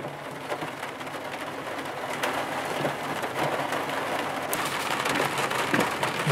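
Steady rain pours on a flooding street in Port Stanley, a dense continuous patter with pigeons cooing and birds calling close by, no speech.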